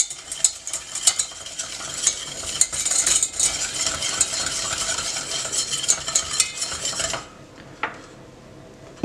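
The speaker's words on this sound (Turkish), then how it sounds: "Yumurtayla şekeri karıştırıyorum güzelce ki yumurtanın parçaları kalmasın hiçbir şekilde" Eggs and sugar are whisked together in a bowl, a close, busy run of rapid metal-on-bowl clicking and swishing strokes that stops abruptly near the end, followed by a single faint knock.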